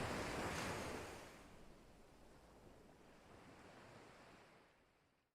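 Ocean surf and wind make a broad rushing roar, loudest at first with a breaking wave, then settling into a softer, steady wash that fades out, with no voices, as an ambient horror sound effect.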